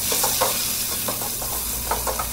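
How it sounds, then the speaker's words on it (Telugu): Curry leaves, onions and green chillies sizzle in hot oil in a pan with a loud, steady hiss. Occasional stirring scrapes come through close up. "కొన్ని కరివేపాకు, కర్రీ లీవ్స్ అండ్ అలానే ఫస్ట్ ఆనియన్స్ వేసుకుందాం"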